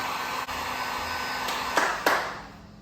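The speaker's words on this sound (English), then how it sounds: "you're just gonna grab your heat gun. And then just kind of like go around it." A heat gun blows a steady, close whoosh of hot air over a wire connection during car wiring work on an MK4 GLI, with a few brief clicks and bumps near the end.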